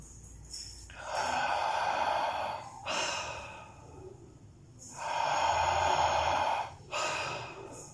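Guided breathwork breaths come as long, loud airy exhales and inhales, four drawn-out breaths with short sharp intakes between them, close and alone with no talk.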